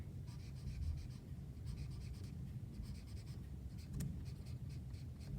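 A marker squeaks and scratches across paper in quick repeated strokes, drawing stripes, close and quiet with no talking.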